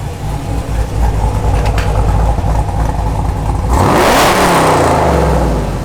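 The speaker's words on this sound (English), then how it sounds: "So we're gonna do it one time, rev." A loud Camaro with a cammed engine and new 3-inch active exhaust, valves open, idles with a throaty rumble, then revs hard in one sharp surge and settles back down, echoing in a garage.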